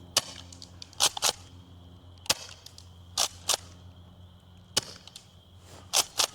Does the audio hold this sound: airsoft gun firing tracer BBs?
yes